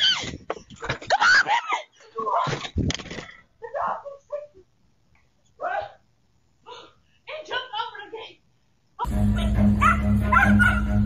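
A dog barks and yips in short, loud bursts while chasing a woman out on a walk, mixed with screams and shouting voices, then a dense burst of noise at the end.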